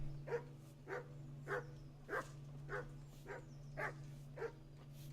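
A dog in the video game Kingdom Come: Deliverance barks about eight times in an even rhythm, each bark soft and somewhat distant over a constant low hum.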